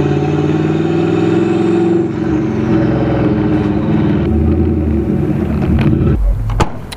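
A Ford Crown Victoria with the 4.6 engine idles loud and close, its steady rumble shifting as the revs drop midway, then a couple of sharp blips and knocks near the end.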